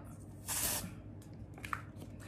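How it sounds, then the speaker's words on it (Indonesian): A deodorant spray can gives one short hissing burst of about half a second, followed by faint handling clicks and rustles. "Cuman bedanya ini adalah bentuknya spray jadi kalian bisa cek dulu baru kalian semprot"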